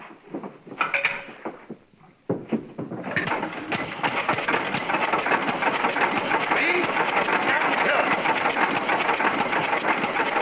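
A car engine idles and runs in a 1941 film scene, first with a few brief starts and bangs, then a loud, steady, continuous rumble that carries on for most of the clip.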